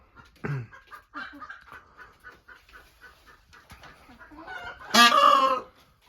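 A loud, harsh peacock call bursts out near the end, a brief shrill cry after scattered quieter clucks and chirps of other fowl in the background.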